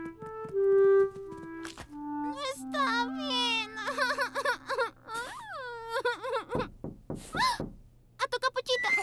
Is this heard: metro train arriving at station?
no